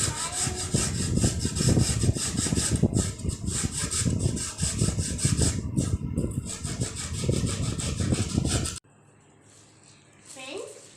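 Sandpaper scrubbed by hand across a wooden fruit crate gives a close, loud, continuous rasping with quick back-and-forth strokes, then stops abruptly, leaving a quiet room.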